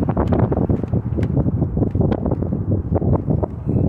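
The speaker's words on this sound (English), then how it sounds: "Wind's blowing." North wind blowing hard into a microphone outdoors, loud continuous buffeting gusts with no pauses.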